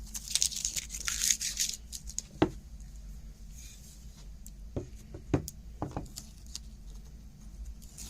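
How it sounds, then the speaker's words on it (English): Masking tape is peeled from a wood gun stock in a quiet workshop, with a short ripping rasp at the start followed by sparse, faint clicks and small handling taps. "First thing we want to do is remove our masking tape."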